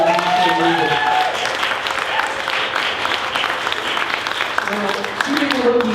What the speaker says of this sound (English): please a huge, gracious round of applause for Nicole